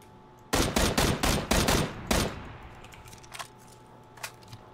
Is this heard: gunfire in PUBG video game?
yes